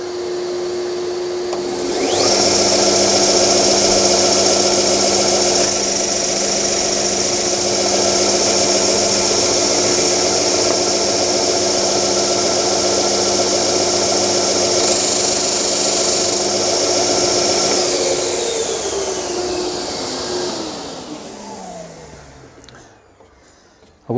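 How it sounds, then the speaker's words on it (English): A dust extractor starts up and runs steadily for a woodworking sander test cut, a loud continuous vacuum-like roar with a brief surge of sanding partway, then winds down with a falling whine at the end. "So if I put the extractor on,"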